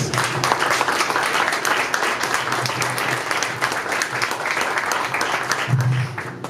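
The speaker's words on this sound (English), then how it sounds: "Can we give Alana another round of applause?" A large audience claps for a keynote speaker at an Urban League gathering, continuous thick applause throughout, with a faint voice surfacing briefly near the end.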